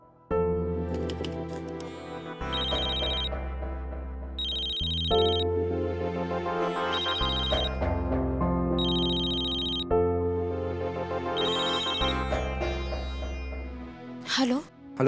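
A telephone rings unanswered in repeated, evenly spaced electronic ring bursts, carried under a tonal musical score that swells near the end.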